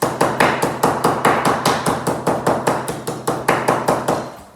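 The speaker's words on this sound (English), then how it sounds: "You put your biscuits in it, and very carefully, with the rolling pin, this will be noisy" Rapid, steady thuds of a rolling pin pounding biscuits inside a bag, about four blows a second, loud and close, with no talking.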